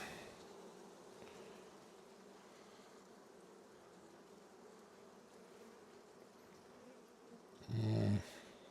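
Honeybees in an opened Langstroth hive during an inspection, their steady, soft buzzing hum filling the background throughout, with a brief louder rustle or thump from handling near the end.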